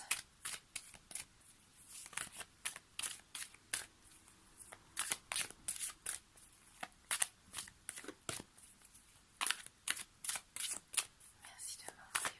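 Tarot cards are shuffled up close in quick, irregular bursts of crisp riffling and slapping that repeat for over twelve seconds against near silence.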